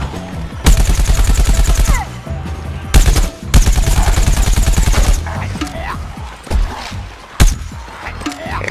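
Gunfire from the video game Plants vs Zombies Garden Warfare comes in loud, rapid bursts. The shots are broken by short pauses, and a voice speaks briefly between them.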